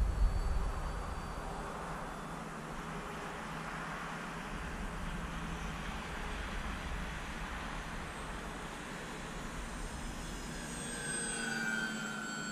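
A small radio-controlled model airplane flying at 65% power, its electric motor giving a steady buzzing drone at moderate distance that swells slightly as it nears near the end, with no talking.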